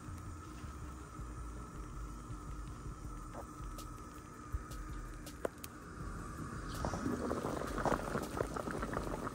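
A pot of Dominican pasteles en hoja wrapped in leaves simmers at a steady boil, with a continuous low bubbling and hum that grows slightly livelier toward the end, no voices present.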